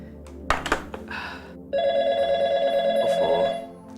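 After a few clunks and rustles, a telephone starts ringing with a steady warbling bell tone, close and fairly loud.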